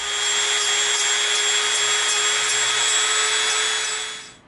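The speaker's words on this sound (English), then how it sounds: "now the corner we'll take off with our Dremel" Dremel rotary tool grinding off a corner of EVA foam, a loud steady high-pitched whine with a rough rubbing edge, held continuously before spinning down at the end.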